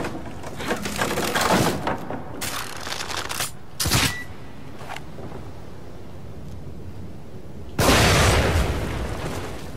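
Blasts from explosives going off in the horror video game The Evil Within, heard as several loud, sharp bursts and booms spread across the clip, with rumbling noise in between.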